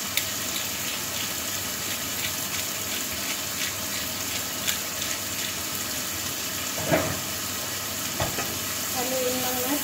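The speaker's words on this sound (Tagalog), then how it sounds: "Haluin lang natin." Bean sprouts stir-fried with soy sauce and pepper sizzle steadily in a pan, with scattered scraping and clinks of a spatula stirring throughout.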